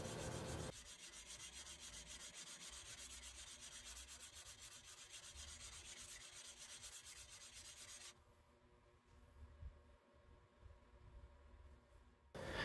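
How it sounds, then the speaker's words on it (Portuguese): The steel sole of an ABOHR No. 3 hand plane being restored is rubbed on 280-grit sandpaper in a continuous, close, hissing scrape that eases briefly near the end. "eu vou partir para a lixa 280 para fazer uma espécie de polimento, para remover os riscos da lixa mais grossa"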